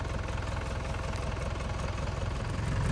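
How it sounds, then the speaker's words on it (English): Forklift engine powering a hydraulic dump hopper, a loud, steady idling chug with rhythmic low knocking pulses and vibration, continuous and close with no talk. "this is running off our forklift here"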